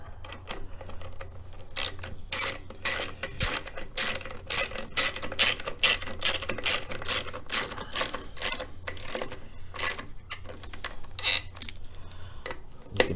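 Rapid ratchet clicking in bursts as bolts are snugged on an aftermarket air cleaner on a 2017 Indian Chieftain motorcycle, close and fairly loud with short pauses between runs of clicks.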